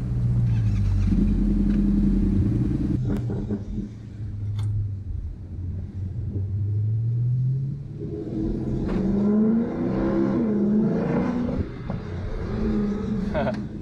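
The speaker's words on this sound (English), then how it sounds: "Okay, give her a little rev. All right, off we go." A 2016 Dodge Charger R/T Scat Pack V8 rumbles, gives a few rising revs, then pulls away with deep engine swells as it accelerates off, heard from inside with the windows down and brief talk over it.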